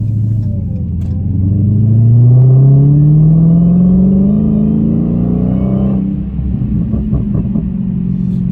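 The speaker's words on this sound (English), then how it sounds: "That exhaust system is amazing." A 2017 Dodge Challenger Hellcat accelerating hard, its exhaust a loud, deep rumble that climbs steadily in pitch through a long pull, briefly dips at a shift, then continues strongly with crackling overtones.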